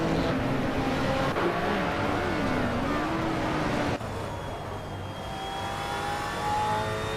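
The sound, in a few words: Aston Martin Vantage GT4 race car driving, from a video game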